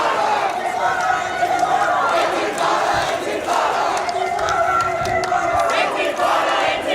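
A protest crowd moves through Sydney streets, a dense, continuous wash of chanting, shouting and chatter close by, with sharper calls and cries breaking through the steady din.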